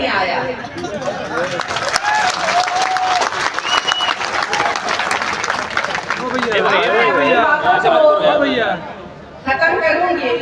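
A crowd at a political public gathering in Darbhanga breaks into loud, sustained applause, with dense clapping mixed with crowd chatter and voices that swell and then briefly dip near the end.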